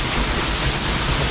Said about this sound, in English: awesome waterfall with 350 baht boat ride